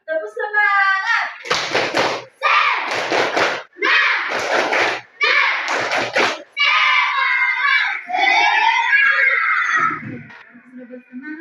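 A classroom of children performs the Tepuk semangat clapping chant, loud rhythmic bursts of clapping alternating with shouted chanted lines in several quick rounds, ending in a rising group shout.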